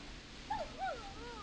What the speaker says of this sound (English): Is that a neighbor's dog?